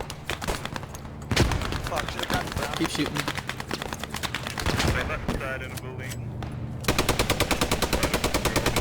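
Gunfire in the game Post Scriptum rattles in rapid automatic bursts and single shots throughout, a fast regular machine-gun burst closing it out.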